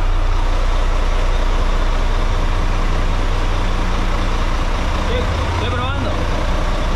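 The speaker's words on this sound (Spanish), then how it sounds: "Estoy probando los motores un ratito." Engines aboard a boat rumble steadily during an engine test, a loud deep continuous drone close by that holds even throughout, with a brief higher whine near the end.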